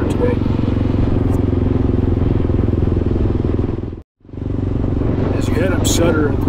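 A motorcycle ride up through the fire-damaged area of Ruidoso, with a loud, steady engine drone and wind roar that drops out briefly and then returns.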